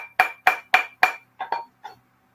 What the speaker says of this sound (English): I'm going to hammer these things down.